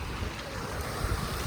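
Flooded creek bending toward a farm house, its water rushing in a steady, loud broadband wash with some wind buffeting the microphone, no voices.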